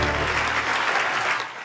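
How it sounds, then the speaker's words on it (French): A TV studio audience bursts into dense, loud applause, a brief continuous roar of many hands clapping at once. "Applaudissements pour Boisseau, s'il vous plaît."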